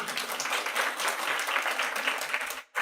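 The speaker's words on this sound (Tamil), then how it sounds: "கைத்தட்டோம் நம்ம அந்த குழந்தைக்கு" A steady wave of audience clapping for a child during a religious discourse on the Mahabharata carries on evenly for almost three seconds, then stops abruptly.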